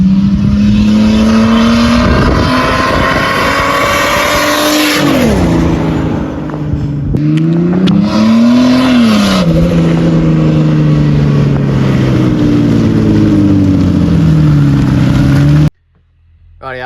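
A Ford Barra engine with a new turbo revs loud and close on dyno day, pitch climbing and falling through several pulls with a whooshing turbo whine, then cutting off abruptly.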